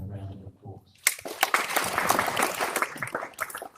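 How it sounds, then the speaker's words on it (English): A church congregation breaks into a round of applause for a speaker: a voice talks alone at first, then a burst of many hands clapping rises and continues in an uneven, busy patter. "Please give him a round of applause."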